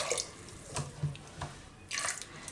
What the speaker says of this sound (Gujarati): હવે આમાં થોડુંક પાણી નાખીશું, દાણા બુડે એટલું,